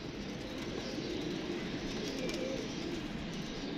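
Pigeons kept in a loft coo softly and repeatedly, a low, continuous murmur of several birds against a faint background hum, with no talking.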